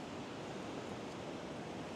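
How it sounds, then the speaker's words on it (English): Ocean surf washing beneath the Galveston fishing pier, a steady broadband roar of breaking waves holding level throughout, with no talking. "Look at these waves here."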